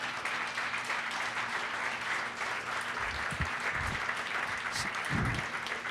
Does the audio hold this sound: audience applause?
yes